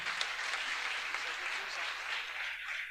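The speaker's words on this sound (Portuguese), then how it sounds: "Receba a serva do Senhor com as palmas bem alegre." Steady, joyful applause from a church congregation welcoming a female preacher, an even wash of clapping heard at a moderate distance.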